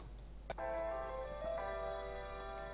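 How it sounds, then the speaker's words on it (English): A cell phone alarm rings with a steady tonal chime pattern after a short click, sustained and fairly faint over a constant low hum, with no talking. "Sorry, my cell phone."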